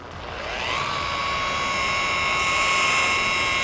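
Machine polisher buffing a plastic car headlight during restoration, a steady high motor whine that ramps up over the first second and then holds a continuous loud drone, close by with no talking.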